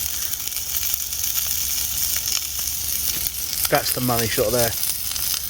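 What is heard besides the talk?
diced chorizo sausage sizzling in a pan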